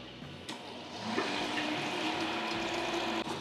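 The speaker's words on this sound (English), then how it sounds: "time to open the valve, get the water, future wort, flowing, and turn on the pump" Water for homebrew wort rushes through an opened valve on a bottom-drain brewing system while a pump runs, a steady close gushing flow with a low hum underneath.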